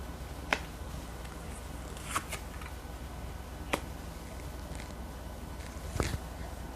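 Tarot cards being shuffled and drawn, giving faint, sparse snaps and flicks spaced a second or more apart over quiet room tone, with no talking.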